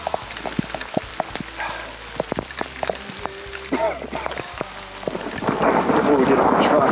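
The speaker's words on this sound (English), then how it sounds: "Lightning's coming in. We got a downpour that's hitting us." Thunder cracks and rumbles several times over steady rain in open mountain country, and the downpour swells louder toward the end.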